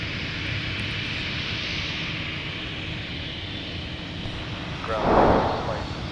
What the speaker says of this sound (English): touching down on the south parallel runway 12 right